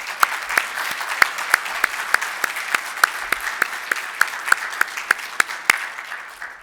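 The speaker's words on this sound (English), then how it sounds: "let's give them a round of applause." Audience applause at the 2022 INSA Achievement Awards Ceremony: a steady round of clapping with several sharp, distinct claps standing out over the dense wash, moderately loud and lasting throughout with no talk.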